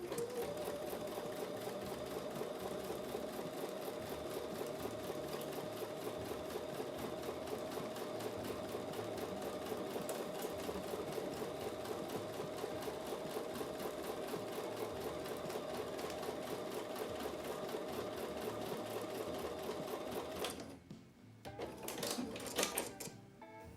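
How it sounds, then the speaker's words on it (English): A sewing machine hums through a quarter-inch seam on a Martha Washington Star quilt block, running as one continuous steady whir for about twenty seconds before stopping with a few short clicks and bursts. "So I'm going to take that over to the sewing machine and sew with a 1/4 inch seam"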